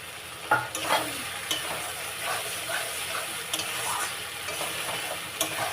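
Cashews and raisins frying in oil for aloo dum, a continuous hissing sizzle broken by occasional spoon scrapes and taps against the pan, close by with no talking.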